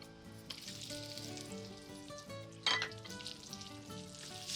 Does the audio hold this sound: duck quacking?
no